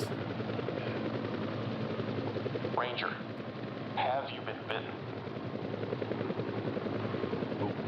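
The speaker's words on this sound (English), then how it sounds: "Don't get shot by the helicopter." A helicopter drones continuously in a video game while bursts of gunfire crackle briefly in the middle, with a person talking over the sound throughout.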